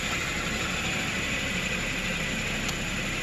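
Engine of a 2010 Toyota Corolla S idling in gear on a steep hill with a cylinder misfire, a steady close rumbling drone with faint uneven roughness and no talk.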